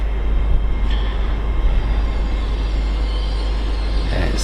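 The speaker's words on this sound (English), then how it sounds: "next to arrive is another LNER Azuma" An LNER Azuma train pulls into a station with a loud, steady rumble that holds throughout, broad and close with no breaks.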